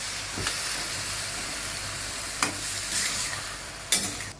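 A spatula scrapes and stirs through chopped brinjal in a pan, with a steady sizzling hiss underneath and a few sharper clanks of utensil against metal.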